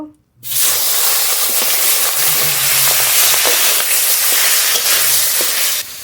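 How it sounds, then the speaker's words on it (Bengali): Pieces of boal fish fry in hot oil with a loud, steady, dense sizzle and scattered small pops and spatters, lasting several seconds without speech. "এই তেলের উপর বাকি মাছগুলো ভেজে নেব"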